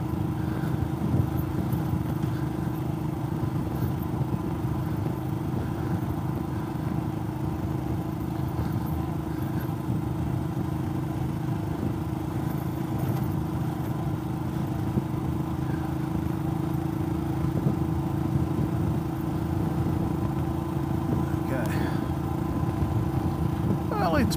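A Royal Enfield Himalayan motorcycle with a sidecar rides along a rough road toward Port Gawler in South Australia, its engine droning steadily and up close throughout, with rumble and rattle beneath. Someone talks over the engine noise.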